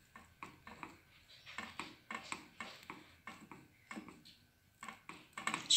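A utensil cutting rice bread in a frying pan, slow repeated scraping and tapping strokes against the pan, quiet and close, gradually growing louder toward the end.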